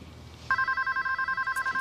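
A telephone rings alone in a quiet room, a steady electronic double-tone trill pulsing in a regular rhythm for over a second after a short silence.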